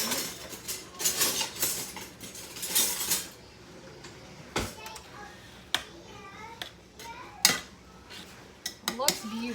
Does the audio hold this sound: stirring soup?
yes